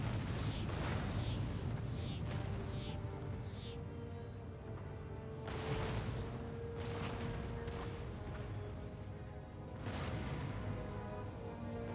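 Cannon barrage in the Empire Total War strategy game: repeated distant booms and rumbling artillery blasts spaced through a quiet, low battlefield ambience, with several sharper reports near the start and louder impacts later.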